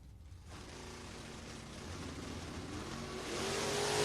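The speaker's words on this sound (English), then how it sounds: "This little Vega wagon's been known to do a wheelie or two here." A Vega wagon launches at a drag race, its engine revving and building steadily louder toward the end, heard from some distance with no one speaking.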